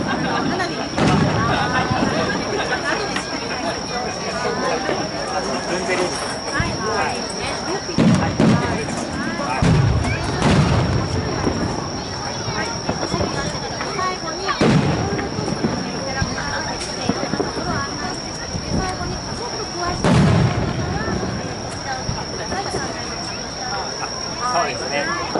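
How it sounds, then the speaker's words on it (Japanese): Fireworks burst at the Shimabara Onsen Gamadasu fireworks festival in Japan, several dull booms spaced apart in the distance, heard under almost continuous nearby talk. "花火見てください。"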